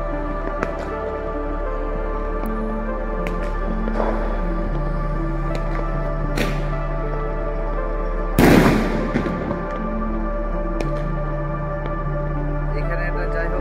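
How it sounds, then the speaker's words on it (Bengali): New Year night fireworks and firecrackers going off around Chennai, a loud sharp bang near the middle among scattered lighter pops over a steady hum of background noise. "আতশবাজি ফাটাইছে"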